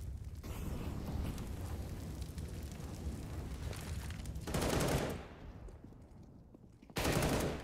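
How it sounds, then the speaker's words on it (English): Gunfire in a CS:GO match on the Mirage map erupts as dense bursts of rapid shots, with a loud burst midway and another near the end over a constant game background. "Good shooting from Tizian, trying to claw them back in"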